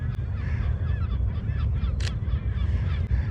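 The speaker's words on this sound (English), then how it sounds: "lots of birds are passing through." A flock of birds honks as it passes overhead at dusk, with repeated goose-like calls overlapping above a steady low rumble of outdoor background noise, fairly close and continuous for a few seconds.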